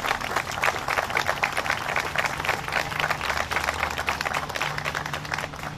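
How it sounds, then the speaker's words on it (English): A dense, steady round of audience applause at the opening ceremony of an LGBT memorial honoring lives lost to hate. The many hands clap loudly and continuously for about six seconds without fading. "Let's give them a round of applause."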